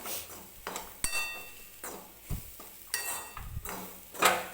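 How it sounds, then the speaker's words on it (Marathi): Grated fresh coconut stirred in ghee in a pan for coconut barfi: soft scraping and the occasional clink of a spoon against metal come in irregular strokes, close and fairly quiet, with no talking. "मी परत हे खोबरं तुपामध्ये आणखीन मिक्स करून घेते."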